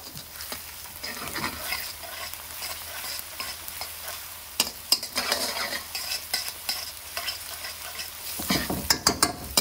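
A spoon scrapes and stirs through beef keema curry with fresh ginger in a frying pan, soft sizzling beneath irregular clinks and scrapes that grow busier toward the end.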